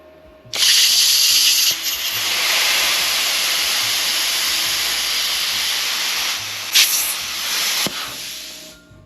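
A Vevor plasma cutter slicing freehand through metal gives a loud, steady hissing roar that starts abruptly, holds for several seconds with a brief flare near the end, then cuts out.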